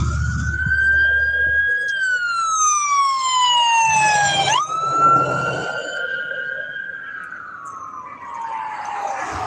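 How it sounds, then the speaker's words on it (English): An ambulance siren passes close by, its wailing tone rising and then falling in pitch as the vehicle goes past, loud over low traffic rumble. "here comes the dang ambulance."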